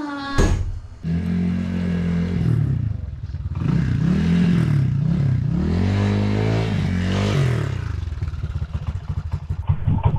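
A Honda ADV160 scooter starting up, its engine catching after a short crank, then revving repeatedly with rising and falling pitch before pulling away, close and loud, with some clatter near the end.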